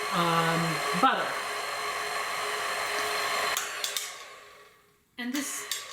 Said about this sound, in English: I definitely like to stop the mixer when I'm adding stuff